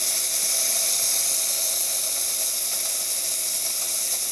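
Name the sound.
steam wand hissing on Olympia Cremina 67 espresso machine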